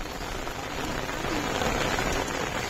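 Steady rain pours down beside a rural canal and pond in a village, a dense, continuous hiss of drops striking water and ground, loud and unbroken throughout.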